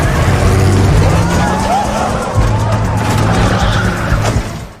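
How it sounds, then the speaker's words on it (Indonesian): A car speeds off with its tires skidding and squealing, the engine roaring up close and loud, as a voice talks over it. "Mobil itu pun melaju tanpa arah dan menabrak tiang listrik."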